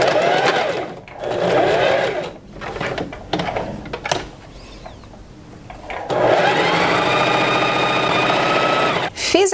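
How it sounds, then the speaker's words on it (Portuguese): A sewing machine stitches folded fabric strips in two loud, steady whirring runs separated by a quieter stretch of handling and clicks, close and dominant. "E vai costurar."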